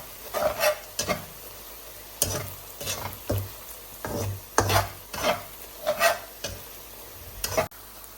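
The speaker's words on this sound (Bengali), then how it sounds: "নাড়া দিয়ে দিই।" Beef being stirred in a frying pan at home, with a spoon scraping and clattering in repeated bursts over a low sizzle, close and moderately loud, no talking.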